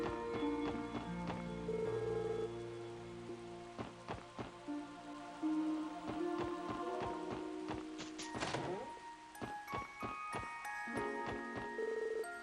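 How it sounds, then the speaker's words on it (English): Steady patter of rain in the video game Trails to Azure, mixed under melodic game music with ringing tones and soft ticking clicks throughout. "No one told me it was gonna rain."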